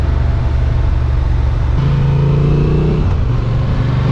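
A 2023 Honda XL750 Transalp adventure motorcycle engine accelerating on the road near the Black Forest, a loud, close, continuous mid-pitched engine note that climbs in revs through the gears.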